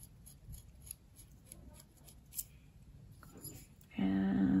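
Small, crisp snips and light scraping from cutting a reed during reed repair, faint and close with short gaps, followed by a sudden louder steady tone toward the end.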